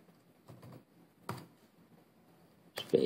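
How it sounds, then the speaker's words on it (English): Typing one-handed on a computer keyboard while entering fastboot commands to unlock an HTC EVO 4G phone: a few separate bursts of key clicks with pauses between, close and moderately loud. "typing one-handed"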